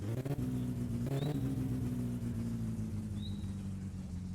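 Car engine in the video game My Summer Car, modded, revving steadily with a low droning hum and a couple of faint higher whines, continuous and fairly loud throughout with no talk.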